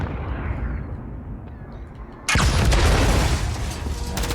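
An explosive tanker or frag grenade blows up in a video game during a collegiate esports match: a sudden loud blast hits midway through a quieter rumble and rolls on in a heavy, crackling decay.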